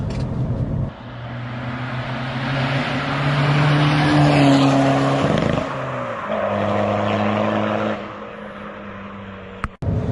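Hot-hatch car engine pulling hard in third gear up a twisty B road, a loud, steady low growl that swells and eases with throttle across the run, with a brief gear-change dip midway and a sharp drop at the end.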